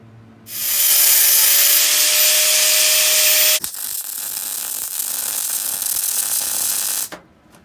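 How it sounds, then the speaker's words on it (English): A loud, steady abrasive whir of a sanding buffer grinding welded metal on a motorcycle luggage rack, running continuously for several seconds before cutting off abruptly. "a little bit of clean up with the sanding buffer"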